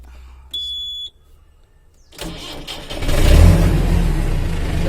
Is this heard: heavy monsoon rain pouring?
no